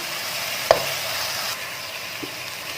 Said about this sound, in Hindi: हमारा मसाला भुन चुका है अच्छी तरीके से